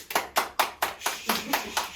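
Hand claps at a martial-arts fighting-technique demonstration: eight sharp, evenly spaced claps, close and moderately loud, with no talk over them.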